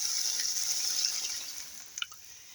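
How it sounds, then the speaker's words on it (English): Water is poured steadily into a pan of tender, sweetened onions, a continuous hissing splash close by that eases off near the end with a few drips, and no one is talking. "the next thing we need to do is add 2 cups of water"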